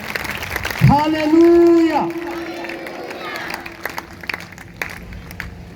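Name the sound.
church congregation applauding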